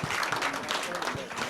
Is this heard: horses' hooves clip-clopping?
no